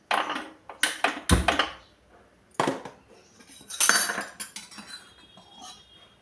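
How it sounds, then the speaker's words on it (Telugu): Metal pan set down on a home kitchen stove with several sharp clinks and clatters, close and fairly loud, separated by brief quiet gaps. "ఇప్పుడు ప్యాన్ పెట్టుకొని స్టవ్ ఆన్ చేసుకుందామండి"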